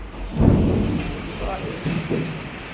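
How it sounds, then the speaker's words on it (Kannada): Low rumbling thunder rolls in distant bursts over a soft, steady hiss of rain during a windy storm. "ಗುಡುಗುಡು ಮುತ್ಯ ಸೌಂಡ್ ಬರತೈತಿ, ಮಳೆ ಬರಾಕತ್ತಿತ್ತು, ಫುಲ್ ಗಾಳಿನೂ ಬಿಸಾದೈತಿ"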